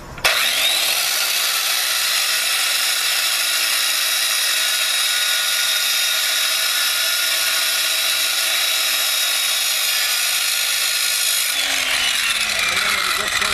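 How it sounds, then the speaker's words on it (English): A small handheld saw fitted with a metal-cutting blade cuts through rebar, giving a loud, continuous high whine that holds steady for about eleven seconds before the pitch drops as it stops. "I got my little blade here with a little saw with a metal cutting blade, and I just cut it"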